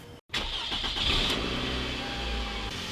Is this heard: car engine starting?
yes